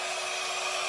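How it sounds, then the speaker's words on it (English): A basic, simple handheld hair dryer blowing steadily, a close, even airy roar with no variation and no voices. "Basic little simple hair dryer."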